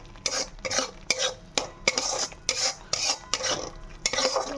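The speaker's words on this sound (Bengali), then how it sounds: "এখন ভালো করে আবার কষে নেব।" Masala with cumin and coriander being stirred in a pan for a prawn dish, a series of about ten distinct scraping spatula strokes in a loose rhythm over a light sizzle, close up.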